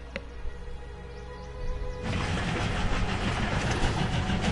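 A train in the game World of Final Fantasy rumbles in after a quiet moment, a steady, loud rolling and clattering that fills the rest of the moment, with no voices over it.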